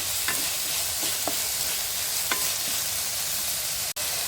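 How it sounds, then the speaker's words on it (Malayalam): Potatoes with salt and curry leaves sauté in a pan with a steady hiss of frying, broken by a few light scrapes of a spoon stirring and one sharp knock at the end. "ഇനി നമ്മൾ ഉരുളക്കിഴങ്ങാണ് ചേർത്ത് കൊടുക്കുന്നത്. ആവശ്യത്തിന് ഉപ്പ് കൂടെ ചേർത്ത് നന്നായിട്ടൊന്ന് വഴറ്റിയെടുക്കുക"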